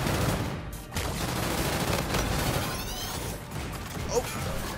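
Gunfire in the video game Call of Duty: Infinite Warfare during a team deathmatch, bursts of shots and impacts over continuous battle noise, moderately loud and steady across the clip.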